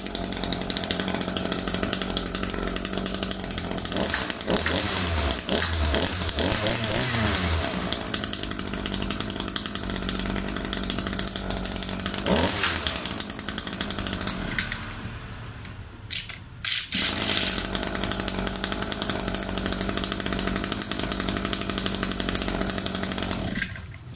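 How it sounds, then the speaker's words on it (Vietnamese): A Shindaiwa 36cc backpack line trimmer engine runs loud and close with a raspy exhaust note, holding steady, revving briefly mid-way and dipping for a moment before picking back up. "Cái tiếng bô của Shindawa anh em nghe rất là đã."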